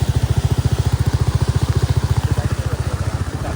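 A Royal Enfield Bullet single-cylinder motorcycle engine thumps steadily at idle, close and loud, with a fast, even rhythm of exhaust pulses, water in its silencer, on a flooded road.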